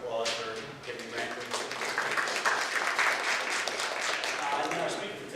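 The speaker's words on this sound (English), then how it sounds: "We give them a brief round of applause for giving the grant." Brief round of applause from a lecture audience at a university talk, dense continuous clapping throughout, with some talk faintly mixed in.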